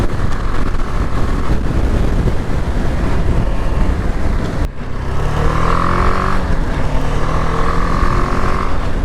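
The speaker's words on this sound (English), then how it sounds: "So yeah, a revvy little engine." A BMW G310 GS motorcycle's small single engine revs steadily, loud and close with heavy wind rush, dipping briefly midway before climbing again through rising engine tones.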